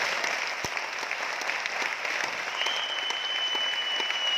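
An audience claps steadily in a hall, a dense, even round of applause from many hands that holds without fading.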